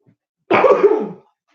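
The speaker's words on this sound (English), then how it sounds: "Now I'm coughing." A single loud, rough cough burst lasting under a second, close to the mic, with quiet before and after.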